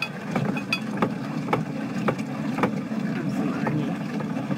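Onions for sweet cucumber relish are run through a food grinder, giving a steady mechanical rumble with regular clicks about every half second, close and continuous throughout.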